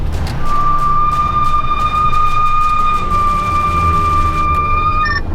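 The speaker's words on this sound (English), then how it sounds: "My brakes are singing, you hear that?" Brakes on a truck squeal with a steady high-pitched whine that holds for several seconds and then shifts pitch near the end, heard loud and close over low road and engine rumble.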